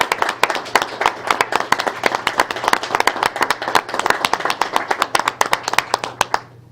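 A school board meeting audience applauds a high school robotics team, a small group of clearly separate hand claps in a steady patter that thins and stops after about six seconds.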